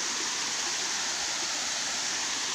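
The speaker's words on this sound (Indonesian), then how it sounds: "Air terjun." Waterfall at Loksado near Kandangan, South Kalimantan: a dense, steady rush of falling water filling the air, close and loud, with no voices over it.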